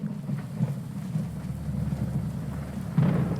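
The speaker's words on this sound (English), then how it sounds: "Lightning in the background. And I don't remember the Sunward Isles ever having rain effects." Thunder rumbles under steady rain in the Darkest Dungeon video game's Sunward Isles, a low continuous roll with a louder swell near the end, no voices.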